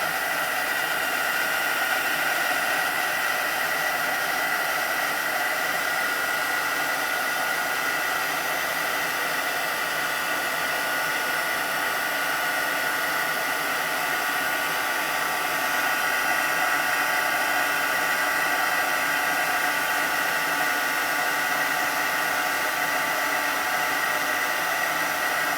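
An embossing heat gun blows continuously over a card-making project, a steady close whooshing hiss that holds unchanged throughout with no talking.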